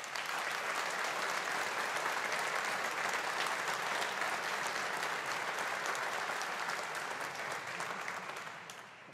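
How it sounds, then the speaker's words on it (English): A graduation ceremony audience for the Faculty of Humanities claps in a loud, dense round of applause that holds steady for several seconds before tapering slightly at the end. "with a round of applause"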